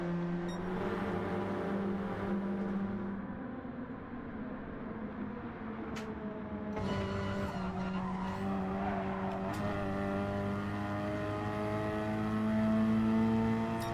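Race cars lapping the Daytona banked track during a GT touring car event, engines droning in steady sustained tones that shift through gears, with occasional tire squeal, continuous and fairly loud throughout.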